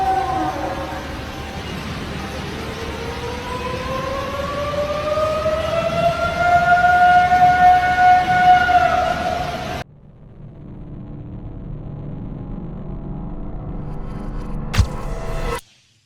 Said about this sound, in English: While it may bear a resemblance to an ambulance passing by, there is a belief that this sound aligns with what you'd expect a Sasquatch to make